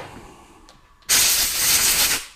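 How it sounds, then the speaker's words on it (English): A compressed air line blowing a part dry during a Firman engine oil change: a sudden loud, close hissing blast held for about a second, then trailing off, after a quiet lead-in. "Blow dry it."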